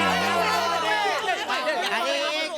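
A crowd of villagers bursts into excited cheering and overlapping chatter, many voices close together and loud, rising in a lively jumble.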